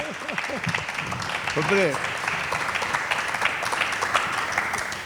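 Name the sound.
audience applause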